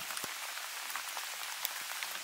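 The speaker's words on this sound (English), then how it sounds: "Pouring rain, the mist is out." Steady, dense rain pouring down, a constant hiss with scattered drop taps, no voices, on a misty river while salmon fishing.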